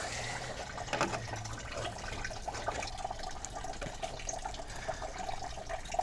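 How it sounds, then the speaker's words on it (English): Coolant drains from a Toyota 4Runner or Tacoma radiator in a steady, faint trickle and splash of liquid that continues without a break. "we're still draining the fluid"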